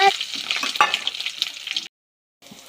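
Loud, crackling sizzle of garlic frying in hot oil, close and steady, broken by a short silence before the sizzling resumes more quietly.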